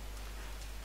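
Rain in the survival game The Forest makes a continuous, even broadband hiss with a low rumble underneath, steady and fairly loud throughout the short moment with no talk.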